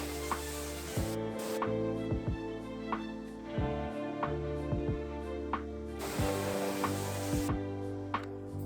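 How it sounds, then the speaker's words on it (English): All-purpose cleaner hisses from a spray bottle onto the muddy tyres of a 100 Series Landcruiser in two longer bursts, over a steady background hum with small clicks between. "when I spray the APC over them, I love watching the tyres just turn brown"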